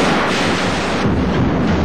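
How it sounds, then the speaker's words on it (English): Staged gunfire from a television drama set on violent Chicago streets, heard as a dense, loud, continuous barrage of blasts and rumbling with no pauses and no talking. "The gunfire and the violence are not real"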